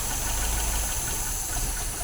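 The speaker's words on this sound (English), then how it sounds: "because that stumbled like that, that means the engine is too lean" An MGB engine with twin SU carburetors, running lean, drones continuously and loudly nearby with a rough, uneven texture and no talking.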